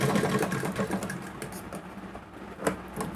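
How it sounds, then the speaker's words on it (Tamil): A sewing machine stitching folded elastic onto a skirt waistband, running in a steady rapid patter with small bumps in pace throughout. "இப்படி அடித்து ஒரு தையல் போட்டுருங்க"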